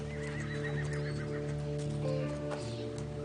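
A horse whinnies loudly and close during a horse-riding scene in a dubbed drama, its neigh rising over a steady dense background of animal and ambient sound, with no talking.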